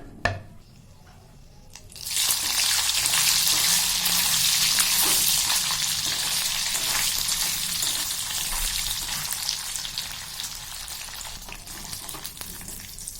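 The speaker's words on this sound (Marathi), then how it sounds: "आता तेलामध्ये आपल्याला पनीर हे तळून घ्यायची आहे" Paneer pieces dropped into hot oil in a kadhai: after a quiet couple of seconds a sudden, loud frying sizzle bursts in and holds steady, crackling and bubbling to the end.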